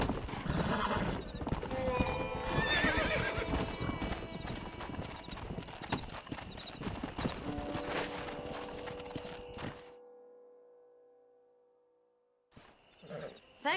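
Many horse hooves clatter in a fast galloping rhythm with repeated neighs over it, then the noise cuts to near silence before a brief return, in the video game Red Dead Redemption.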